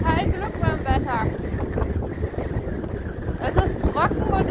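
Winter wind at the seaside buffets the microphone in heavy, gusty low rumbles while people talk over it.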